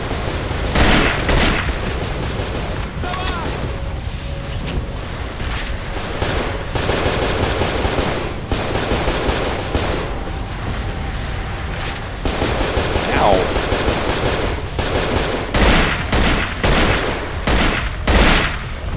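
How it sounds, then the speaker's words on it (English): Rapid automatic gunfire rattles loudly and continuously in the survival-horror video game Cold Fear, with dense bursts and sharp cracks layered over a constant rumbling game soundscape. "He was shooting a gun at me."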